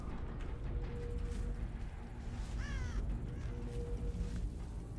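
Crows caw in a Dead by Daylight-style horror game, placed by the Artist, with one clear rasping call midway over a steady low game hum and faint scattered ambience.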